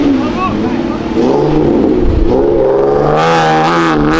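A car at a lively Brazilian car meet departs with its engine revving in rising, sweeping pulls close by, while people talk and call out over it.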